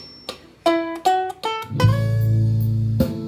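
Several plucked ukulele notes from a riff ring out one by one, then a sustained backing chord swells in beneath them, with a final pluck near the end.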